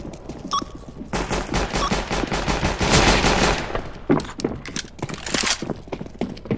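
Rapid bursts of AK rifle gunfire in the CS-GO video game, loud and close, with dense repeated shots through most of the stretch and brief gaps between volleys.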